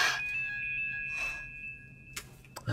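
A phone in a Hindi film rings with a steady electronic tone that holds for about two seconds, with faint breathy sounds around it and a couple of soft knocks at the end.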